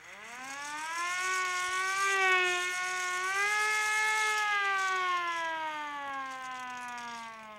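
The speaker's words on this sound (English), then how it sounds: "This is a hand crank siren." A hand-crank siren rises into a loud, steady wail and holds it for several seconds, sliding slightly up and down as the crank speed changes, with no talk over it.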